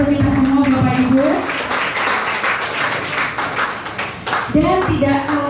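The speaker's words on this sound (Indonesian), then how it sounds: "Dan tepuk tangan untuk kita semua Bapak Ibu." An audience at an Indonesian political gathering breaks into a burst of applause that swells and fades over several seconds, while a host keeps speaking over it.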